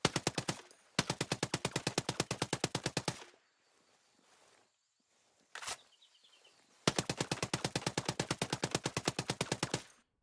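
Full-auto rifle fire in the video game Ghost Recon Breakpoint, heard as two long, rapid bursts of loud gunshots separated by a quiet pause with one short shot in between.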